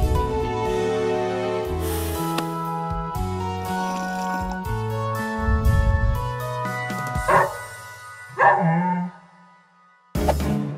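A cartoon puppy's yipping barks in a French animated children's story, short high-pitched yelps mixed over bright music with a few louder bursts, heard alone without talk.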